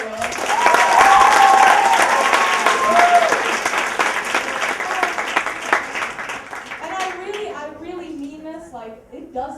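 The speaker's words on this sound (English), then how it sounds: "Can you please applaud for everybody that" Audience applause at a spoken-word event, loud and dense at first then thinning over several seconds, with voices and cheers rising through the tail.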